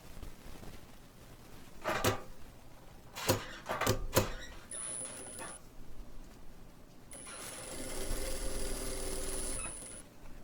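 A sewing machine joining rows of patchwork strips, with a few handling knocks and clicks at first, then short and longer runs of steady mechanical whirring stitching.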